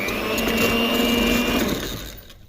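An electric beater whirs steadily as it beats sugar and ghee together for a homemade cake batter, a close mechanical hum that winds down at the end.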